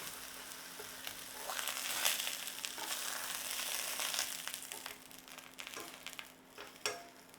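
Mushrooms sizzle steadily in a hot frying pan after being flipped, a soft continuous hiss with a few louder crackles and pops near the end and no voices.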